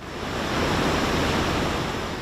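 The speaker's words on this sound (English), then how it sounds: "The waters in Kłodzko in Poland ripping through, leaving no stone unturned and no street and road untouched." Floodwater rushing through the streets of Kłodzko, Poland, during Storm Boris: a steady, loud broadband roar of churning water with no voices.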